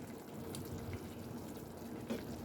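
Beef pot pie filling bubbling in a pot, a steady low wet simmer with soft irregular pops close by, no voices.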